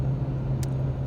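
A Honda with a manual gearbox cruises steadily on a 75-mile highway ride home, its engine a low, constant hum with a steady drone under road rumble and a brief hiss partway through.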